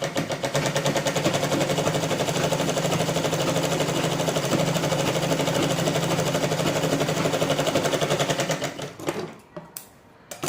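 A sewing machine runs steadily and loud while stitching a blouse seam to attach a hook strip. The whirring motor and needle rhythm continue for about nine seconds, then stop, leaving a few faint clicks.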